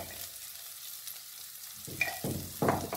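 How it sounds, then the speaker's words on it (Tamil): A spoon stirring and scraping a pepper rice mixture in a hot pan after salt is added. A low sizzle runs throughout and brief louder scraping strokes come near the end, close up with no voices. "உப்பு சேர்த்து நல்லா கிளறிடுறேன்"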